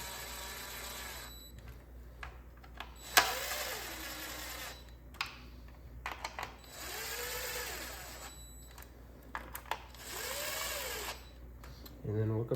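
Valve cover bolts on a 2008 Ford Focus are run down with a power driver in three separate bursts of whirring with rising pitch, each a couple of seconds long, with quiet gaps and small clicks between them.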